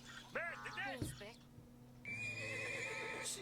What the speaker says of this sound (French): Veuillez avancer votre cheval